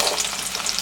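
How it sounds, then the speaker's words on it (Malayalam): Halved small onions (shallots) fry in hot oil, a dense, bright, continuous sizzle heard up close with no voices. "ഇനി നമുക്ക് ചെറിയ ഉള്ളി വറുത്തെടുക്കാം കേട്ടോ."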